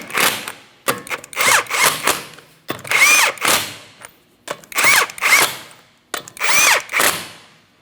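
Power tool running down the 19mm lug nuts on the rear wheel of a 2004-2008 Grand Prix: a series of loud, close whirring bursts, each a second or so long, separated by brief pauses, with no talk.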